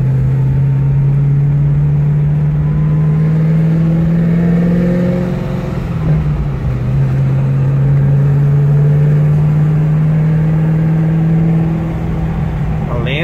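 A Chevrolet Camaro ZL1's V8 engine runs with a loud, steady low rumble close by, rising and falling slightly in pitch as it idles and is eased along.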